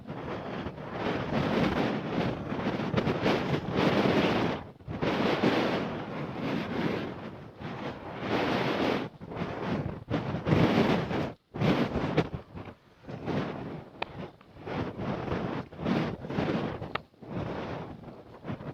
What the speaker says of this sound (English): The wind is definitely pushing me around.